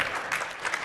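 A conference audience at a SharePoint technical session claps briefly, a dense, steady patter of many hands with no voices over it.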